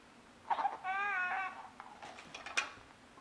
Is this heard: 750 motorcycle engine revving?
no